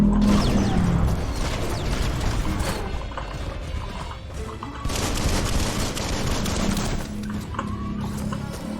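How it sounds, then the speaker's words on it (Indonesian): Weapons fire in Biomutant goes on in loud, heavy, rattling bursts, with mechanical clanks that sound like a reload. Booms and volleys overlap for the whole stretch, and a faint voice sits in the background. "Pelurunya habis, kita reload dulu."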